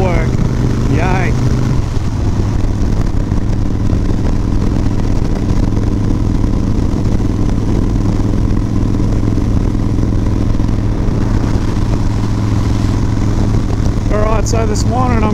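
A Harley-Davidson Dyna Wide Glide motorcycle rides up Harvey's Range in North Queensland, its engine a continuous, close rumble mixed with wind rush. Someone talks briefly at the start and again near the end.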